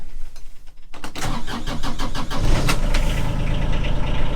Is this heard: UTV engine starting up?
yes